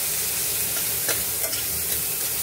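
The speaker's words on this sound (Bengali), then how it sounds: "এই আদা রসুন পেঁয়াজ কেটে নিয়েছি। হয়ে গেল, দিয়ে দিলাম। এইবার এটাকে ভাজতে হবে ভালো করে" Chopped ginger, garlic and onion fry in a pan, giving a steady, close, loud sizzle with faint stirring scrapes and no voices.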